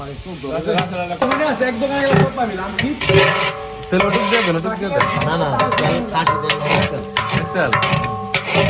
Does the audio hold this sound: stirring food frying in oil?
yes